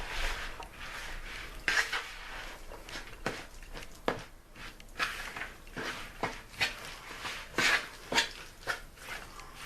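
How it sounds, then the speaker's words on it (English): Lasagna ingredients being stirred in a pot, with repeated scraping and clinking of a utensil against the cookware in an irregular rhythm, close and moderately loud, with no talking. "Okay, we're gonna stir this in."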